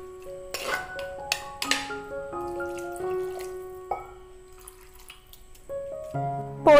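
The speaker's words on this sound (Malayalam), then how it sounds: "ഇച്ചിരി കൂടെ വെള്ളം ഒഴിക്കണേ." Water poured into a pan at an outdoor Kerala village kitchen, heard as scattered splashes and drips with ringing, resonant tones that end in a louder gush.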